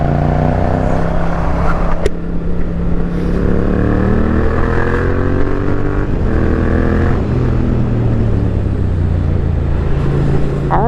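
A Yamaha MT-09 motorcycle rides along, its engine droning loudly and steadily up close with rising and falling pitch as the rider changes speed, and a sharp click partway through.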